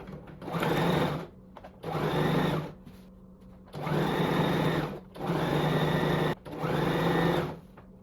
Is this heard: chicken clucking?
no